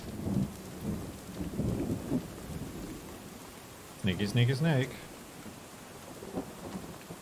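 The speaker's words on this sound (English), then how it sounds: "They couldn't figure out how to do the rain effect outside, but not inside." Rain and thunder effects in the Hourglass video game form a constant wet hiss with low rumbling, while a person talks over them in several bursts.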